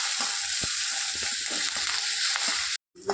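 Tomatoes sizzle and sauté in a pan for a South Indian yam mash, a steady frying hiss with occasional stirring scrapes, close and continuous before a brief drop to silence near the end.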